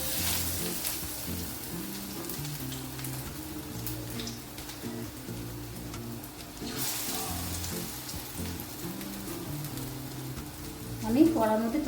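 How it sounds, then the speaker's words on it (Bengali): Onion pakoras (piyaji) sizzle and bubble steadily in a deep pan of hot oil, a continuous crackling fry with faint clinks near the end. "এবার আমি পেঁয়াজিগুলো একে একে তেলের মধ্যে ছেড়ে দেবো।"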